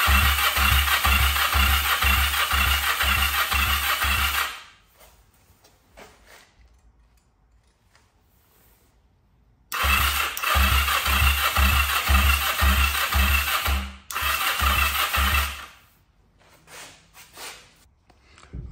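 An engine cranks over in three separate bursts without catching, each a steady rapid chugging of the starter, with near-silent pauses between attempts; a timing or valve fault is suspected.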